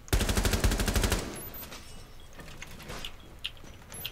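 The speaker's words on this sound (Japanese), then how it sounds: "銃声聞こえてんの？" Rapid automatic gunfire in the shooter game Rainbow Six Siege rattles loudly for about a second, then fades into quieter scattered shots, footsteps and thuds.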